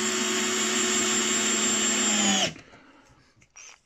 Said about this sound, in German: Ihr seht, der versenkt die Schrauben hier problemlos.